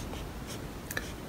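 Faint, brief scratching strokes of a pen writing fractions by hand, heard alone in a quiet room.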